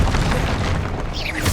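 A Confringo spell explosion in the video game Hogwarts Legacy, a dense, loud boom that fills the short moment with rumbling low-end energy and sustained blast noise.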